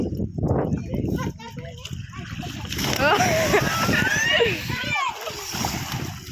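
Water splashes and splatters at a water park, close and lively, mixed with children's voices and people talking throughout.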